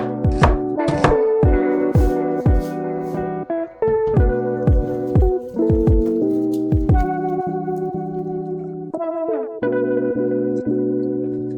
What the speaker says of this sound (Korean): 양파를 먹기 편하게 썰어서 양념물에 넣어주세요